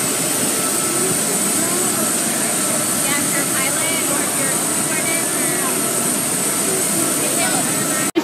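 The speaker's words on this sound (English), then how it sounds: "The plane! That's the big plane!" A large airplane's jet engines roar steadily and loudly nearby, a continuous broadband rush that holds at one level throughout, with excited voices talking over it.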